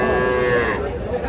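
A young bull calf at a village cattle market lets out a single loud, close moo that holds a steady tone, then fades into the market's background murmur.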